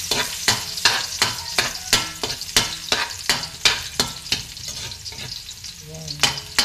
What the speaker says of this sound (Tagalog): Ating brown natin itong bawang guys.